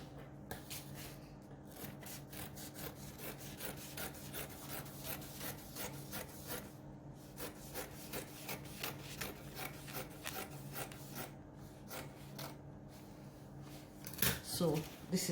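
Scissors cut through fabric to shape a tapered pencil skirt pattern, a quiet rhythmic series of close snips and rubbing scrapes across the cloth, with occasional soft handling noise.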